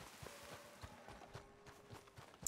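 Horse hooves clip-clopping in the Red Dead Redemption 2 video game, a quick irregular run of soft thuds at moderate distance, fairly quiet against a low background wash.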